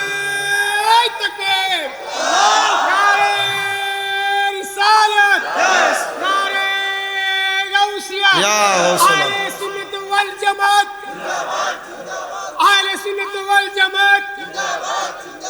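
A large crowd at a Bangla religious gathering shouts a takbir chant, with repeated loud massed voices rising in waves and several bursts of cheering across the span.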